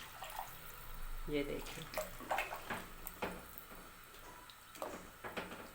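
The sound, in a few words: water being poured into a pot of trotters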